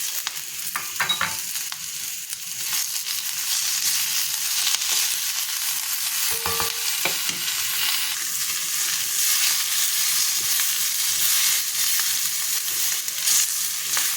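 Chole masala fries with freshly added tomatoes in a pan, a steady close sizzle throughout with a few scraping stirs near the start and middle, no one talking.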